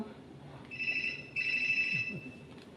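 A telephone rings with two electronic trilling bursts close by, a brief gap between them, over a quiet room.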